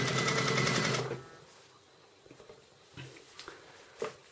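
A sewing machine stitches elastic jersey fabric for a softshell vest, running in a loud, fast whirring burst for about a second, then giving way to quieter, scattered clicks and handling taps.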